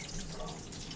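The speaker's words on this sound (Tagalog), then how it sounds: "Hugas tayo habang may tubig." Tap water runs into a sink during dishwashing, a close, steady splashing gush with small clinks of water on surfaces throughout.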